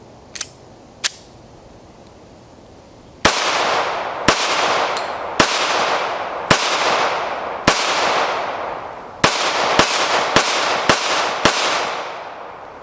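A Smith & Wesson Bodyguard 2.0 handgun fires about eleven sharp, loud shots, two lighter pops early on, then a steady series with echoing decays, ending in quicker pairs of rapid shots.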